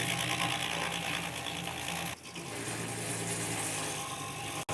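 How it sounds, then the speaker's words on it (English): A 24-inch stump grinder chews steadily through solid, unrotted wood of a tree stump, a loud continuous mechanical grinding roar close by with a brief dip midway and a sharp cutoff near the end. "that indicates we're doing a great job of grinding this stump"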